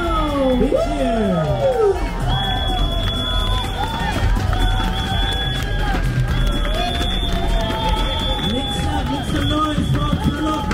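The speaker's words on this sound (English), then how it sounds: "Big cheer." A large crowd at Singapore's Purple Parade community walk cheers and shouts continuously, with whoops and high-pitched yells rising from the throng, loud and close throughout, mixed with excited voices.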